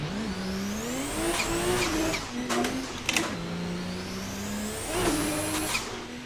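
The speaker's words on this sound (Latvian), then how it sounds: "Labi, ka var dzirdēt, kas zālē iebrauc. Mašīna." A car engine in a drifting video game revs up and down in a loud close whine, pitch climbing and dropping through several gear shifts with brief scraping bursts in between.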